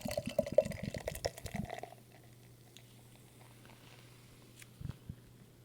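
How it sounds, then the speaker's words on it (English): Beer, a Stone Brewing Tangerine Express IPA, poured into a glass: a short burst of liquid splashing and glugging up close for about two seconds, then near-silence with a brief clink or knock near the end. "So let's go ahead and get this one poured here."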